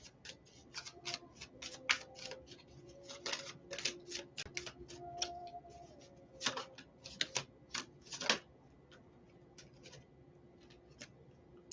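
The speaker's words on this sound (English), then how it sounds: "You can see the cards being shuffled, right?" Tarot cards shuffled and snapped one after another in a quick, irregular run of crisp papery clicks and riffles, close and fairly quiet with no talking.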